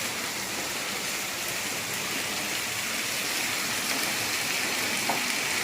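Steady, dense hiss of heavy rain falling continuously, a broad even wash of sound with no pauses.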